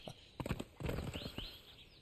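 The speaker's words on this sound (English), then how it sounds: "It's so good being back on a horse." Horse hooves clopping in the video game Isle of Siptah, a close, clear walking rhythm of sharp thuds that pauses briefly and then resumes as a steadier run of footfalls.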